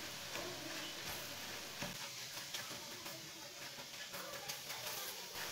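Semolina roasting in a pan for village-style carrot halwa, a steady quiet sizzle with scraping stirs and occasional clicks of a spoon, continuous and close throughout.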